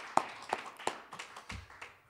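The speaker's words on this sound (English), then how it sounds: "let's give him a round of applause" Sparse applause for Bishop Swan at a lecture series, a handful of distinct, well-spaced claps from a small group, fairly close and crisp.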